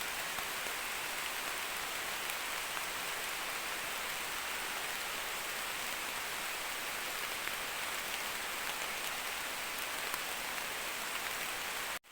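Steady rain falls on the foliage of a lush green forest, a dense, even hiss of drops on leaves lasting throughout, with no voices.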